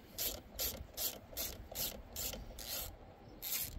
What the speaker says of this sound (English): Yeah, we're gonna undo these two bolts.